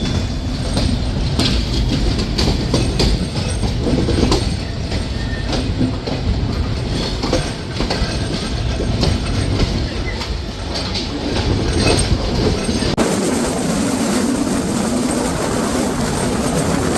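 The Simanta Express runs along the rails with a loud, continuous roar and a steady clatter of wheels over the track, with a brief faint squeal now and then.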